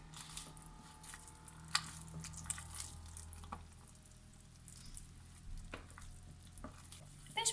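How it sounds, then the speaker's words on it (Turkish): Sticky, soft dough for poppy seed buns being kneaded by hand, quiet wet squishing and slapping with a few sharp knocks, close but faint over a low background hum, no talk. "Ve hamurumu yoğuruyorum."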